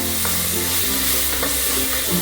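Ginger garlic paste sautéing in a pan for green peas masala, a loud, dense, unbroken sizzle up close with faint stirring scrapes, no voices.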